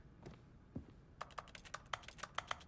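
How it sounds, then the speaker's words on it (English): Piano keys struck in the video game Stanley Parable, giving quiet, sharp clicks like computer keyboard keys, about a dozen in quick succession after a faint thud or two. "when I hit the piano keys, they sound like a keyboard key"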